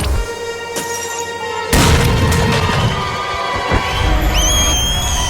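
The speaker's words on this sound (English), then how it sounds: "I'm gonna try to hit it now with a grenade out my right side." A sudden loud boom lands partway through, followed by lingering rumble and crackle under a bright, busy sound bed, like a grenade fired and exploding in a game.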